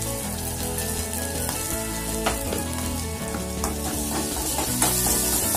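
Onion and kanthari chili sauté in hot oil for a coconut chutney, making a dense, steady sizzle with occasional stirring scrapes, close and alone, without any voices.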